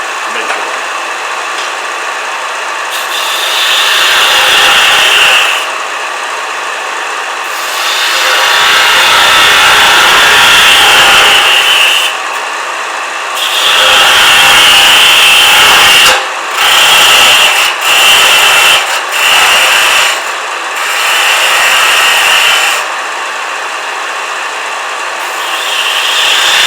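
Wood lathe turning a bottle stopper down to cork diameter, a steady whirring hum with repeated bursts of scraping as the tool cuts, pausing between passes, with a voice talking at times.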